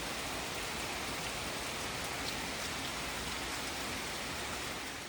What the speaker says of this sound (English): not gonna run some errands in the rain right now